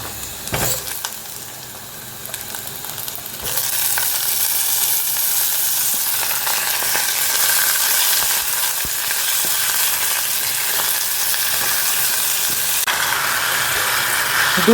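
Chicken pieces cook in a pan in a home kitchen, a steady close sizzle and hiss that swells after a quieter start and carries on evenly, with no one speaking.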